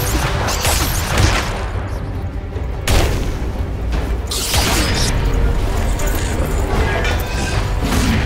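Loud, dense battle noise in Legend of Grimrock II with cannon fire, heavy booming blasts and rumbling explosions, continuous throughout with sharp bursts near the start and middle.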